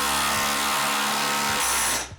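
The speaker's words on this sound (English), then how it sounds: "once you've installed all your bolts with the impact drill on the base plates" An impact drill drives bolts into the base plates of a metal stair railing, a loud close whirring with pulsing hammer impacts that run continuously for about two seconds, then cut off.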